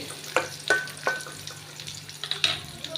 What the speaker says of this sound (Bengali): তো পেঁয়াজটা আমি একটু ভেজে নিব।